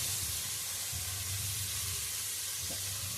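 Tomatoes frying with a spoon of salt in a pan for a fish curry, giving a steady, close hissing sizzle throughout, with a low rumbling bubble beneath and no voices.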